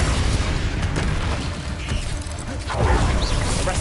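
Confringo fire-spell blasts in Hogwarts Legacy combat, dense booming crackle filling a loud, cluttered battle soundscape with no talk.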